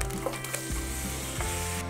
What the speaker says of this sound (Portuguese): Assim que a manteiga derreter, acrescente 6 cebolas grandes picadas.